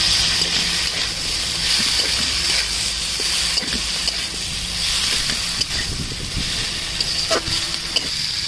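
Vegetables sizzle as they are stir-fried over wilted greens in a pan for a vegetarian Bengali greens dish. A steady, close hiss runs throughout with light scraping and stirring clatter, and no one speaks.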